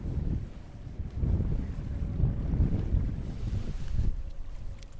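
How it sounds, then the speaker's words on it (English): Arctic Ocean waves washing onto a sandy beach at the end of a fjord, a low rolling surge that rises and falls in repeated swells, with gusty wind buffeting the microphone. "These are the waves of the Arctic Ocean in the end of a fjord, smacking against a sandy beach."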